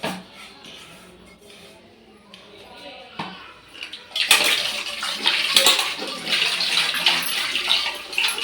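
Water runs and splashes as a kadai is washed, starting quietly and turning into louder, steady rushing and sloshing partway through, with faint voices underneath.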